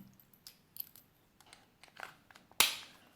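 The plastic casing of a Ram 1500 key fob snaps back into place, a few faint fiddling clicks leading to one sharp, close snap near the end.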